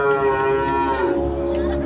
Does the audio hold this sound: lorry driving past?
no